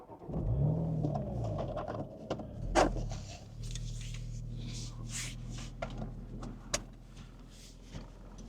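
A BMW Z4 carries on with a steady low engine rumble heard from inside the cabin, with a brief whining rise near the start, a sharp knock around three seconds, and scattered small clicks and rustles.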